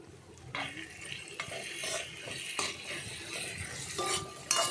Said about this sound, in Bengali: সবজিগুলো বেশ খানিকটা ভাজা হয়ে এসছে